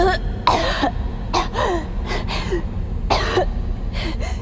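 Several harsh coughing bursts in the eerie hospital of the horror game DreadOut 2, coming in uneven clusters, loud and close, with throaty rasping between them.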